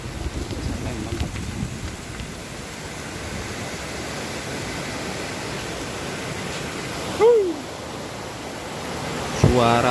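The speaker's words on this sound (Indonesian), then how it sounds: "Suara air yang bergemuruh itu adalah suara air terjun Ciomas" A constant broad roar of rushing water from the Ciomas waterfall in Lembang fills the clip, steady and enveloping, with a brief chirp and a thump near the end.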